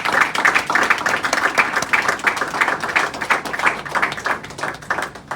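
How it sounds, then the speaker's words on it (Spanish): A church congregation claps together in a steady rhythmic beat, the pulses rising and falling evenly for several seconds. "Denle un fuerte aplauso al Señor, hermano"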